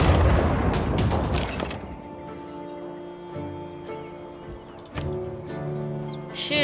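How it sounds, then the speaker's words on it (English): A unit firing on a city in the strategy game Civilization VI: a heavy booming crash at the start, then a second sharper impact near the end, over sustained musical game ambience. "Shoot that city."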